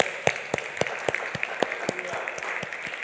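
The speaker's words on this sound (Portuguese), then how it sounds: "vamos bater palmas para o Senhor Jesus Cristo" Rhythmic group clapping in a steady beat at a church service, a few hands striking together in unison at regular intervals over a soft background murmur.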